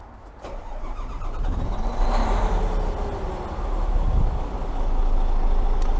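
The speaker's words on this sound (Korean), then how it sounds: "이제 브레이크를 밟고 시동을 한번 걸어 보겠습니다." A 2014 Hyundai Xcient dump truck's heavy engine cranks and turns over, then settles into a loud, deep diesel idle that rumbles steadily and grows stronger.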